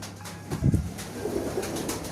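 Low, soft Punjabi pigeon coos murmur close by, a few rounded calls rising and falling over a faint background hum.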